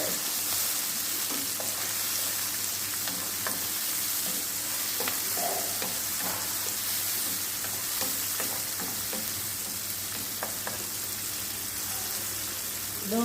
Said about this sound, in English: Fry up my aromatics. All of my seasoning.